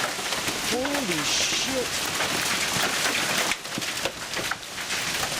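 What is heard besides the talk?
large hail falling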